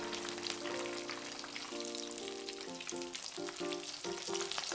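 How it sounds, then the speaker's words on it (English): Shiso-wrapped sardines deep fry in hot oil, producing a dense, continuous bubbling crackle like light rain, with quieter tonal sounds under it and no talk. "Deep fry them until they are lightly colored."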